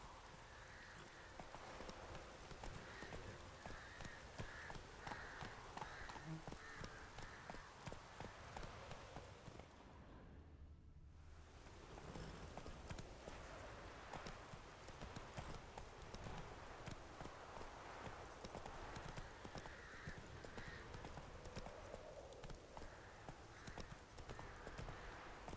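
Hooves of the horse Roach in The Witcher 3 gallop in a fast, steady clip-clop over about 25 seconds. A brief dip near the middle breaks the run, with faint game ambience beneath.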